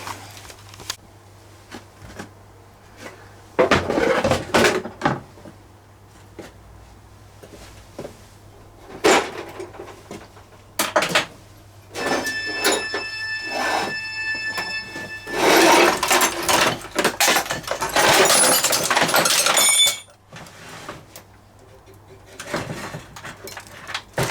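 An old toolbox lid on badly worn hinges swings open and shut, giving creaking and clattering metal bursts, with scraping, tool rattles and bits of talk between the louder movements.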